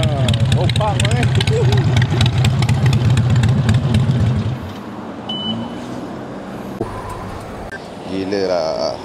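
A Harley-Davidson Sportster 48 motorcycle idles close by with a loud, deep, steady engine rumble for several seconds, then drops away as people talk nearby.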